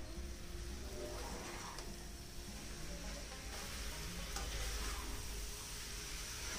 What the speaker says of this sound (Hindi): बस हरा धनिया डाल के चला दीजिए